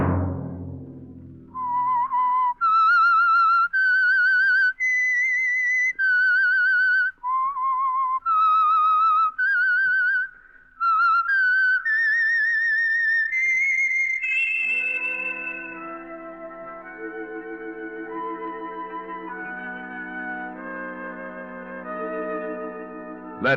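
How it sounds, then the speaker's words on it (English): A lone whistler performs the eerie theme of The Whistler radio program from 1949, a clear melody of held, slightly wavering notes that rises and ends in a sustained orchestral chord. "Let that whistle be your signal for the Signal Oil program, The Whistler, each Sunday night at this same time."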